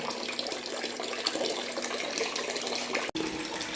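Water is changed by filling a container, a continuous close gush of running water with one brief break near the end.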